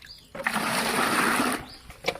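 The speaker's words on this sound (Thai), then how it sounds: "แล้วเขาก็จะมาเทน้ำใส่นะคะพี่น้อง" Water is poured from a container onto wood ash in a stove for bleaching silk, a steady close splashing gush lasting over a second, then stopping, with faint bird calls around it.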